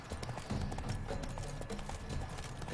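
Horse hooves clip-clopping steadily in The Witcher 3: Blood & Wine, a continuous mid-level rhythm over game ambience.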